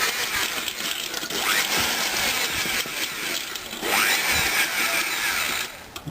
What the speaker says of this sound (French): j'ai monté le gros sur la perceuse